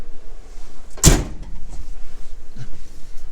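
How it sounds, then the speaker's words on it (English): A Falcon vehicle's door shuts with one sharp, close thump, with quiet room sound before and after the single impact. "let's shut the door"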